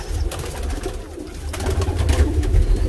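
Low rolling coos from several Teddy pigeons in a breeding loft, close and steady, overlapping with light rustles and clicks in the loft.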